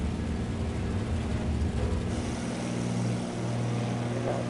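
Steady propeller plane drone in Flight Simulator 2024, cruising slowly at about 140 to 150 knots; a loud, continuous low engine hum with airflow rush, unbroken throughout and without voices.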